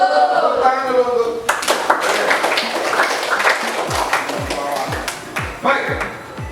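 A congregation or class claps together after a short stretch of speech, a burst of many hands that thins into scattered individual claps, with a voice returning near the end.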